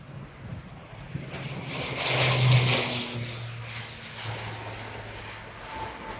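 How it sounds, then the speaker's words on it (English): ATR-72 turboprop regional airliner starting its takeoff at the Farnborough International Airshow: a distant propeller and engine drone that swells to a broad roar, then eases into a steady rumble. "the ATR-72 starts its takeoff"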